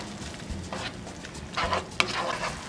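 Shrimp with consommé and ground black pepper are stirred in a hot pan, giving a few soft scraping strokes over a faint, low sizzle.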